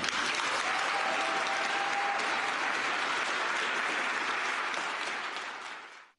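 A large audience gives a long ovation, a thick, even roar of many hands clapping that holds steady for several seconds before fading out at the end.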